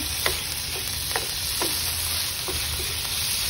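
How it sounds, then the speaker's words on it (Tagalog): Pork tenderloin stir frying in a hot pan, a steady dense sizzle punctuated by several light utensil taps and scrapes as it is stirred, close and without talk. "we're gonna let the pork cook, and then stir fry"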